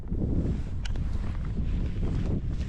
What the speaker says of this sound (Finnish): Lännenpuoleinen tuuli avittaa matkantekoa nyt tässä Summasella.